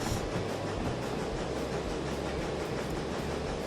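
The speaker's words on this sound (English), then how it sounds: "as soon as I pull it off, I can hear the wheel slip" A locomotive in the train game Derail Valley slips its wheels, giving a dense, continuous roaring rumble with rhythmic clatter, loud and steady throughout with no voices.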